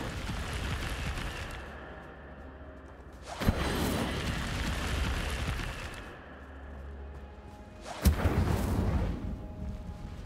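The Incendio fire spell is cast in the video game Hogwarts Legacy: two sharp, fiery whooshing bursts a few seconds apart over a low rumbling game backdrop.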